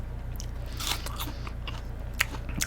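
Someone bites into a mushy old apple that has sat in a fridge for a while, giving soft, muted crunching and chewing, close to the mic, with a couple of sharper bites and no speech.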